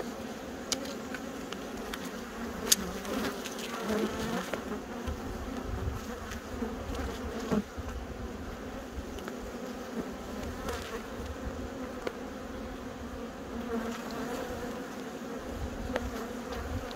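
Honey bees buzz around their hives on Dartmoor in summer, a dense, continuous drone of many insects close by, with individual bees passing nearer now and then and no talking.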